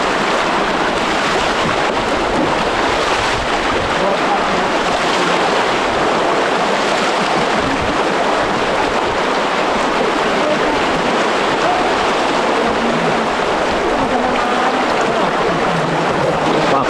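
River rapids on a natural stretch near Pagsanjan in Laguna, Philippines, rushing as a steady, loud, broadband wash of churning water that holds unbroken throughout, with a little wind buffeting and no clear talk.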